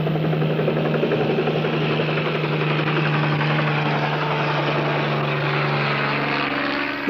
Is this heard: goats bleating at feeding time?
no